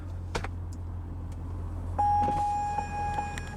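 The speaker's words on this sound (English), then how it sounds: "it'll chime, windows go down automatically" A 2005 Chevrolet Corvette Z51 convertible gives a steady electronic chime tone while its top lowers and windows drop automatically, preceded by a few sharp clicks and a faint low hum from the car.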